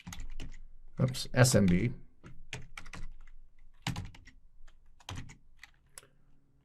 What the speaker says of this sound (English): Then we're going to type use auxiliary scanner